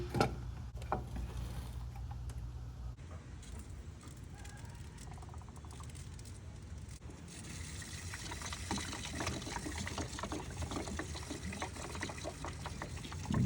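Clutch fluid on a B8 Audi forced through an opened bleeder by a pressure bleeder set to 10 PSI into a catch bottle, a faint steady hissing trickle of liquid with small gurgles.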